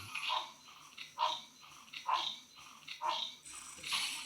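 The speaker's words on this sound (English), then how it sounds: "thank you, it's a dog" A dog barks five times in an even rhythm, sharp and fairly close, with quiet pauses between each bark.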